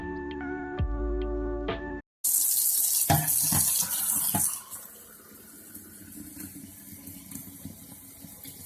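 Water runs from a household faucet, a steady broadband rush starting abruptly after a brief tonal passage and then settling to a softer, continuous flow.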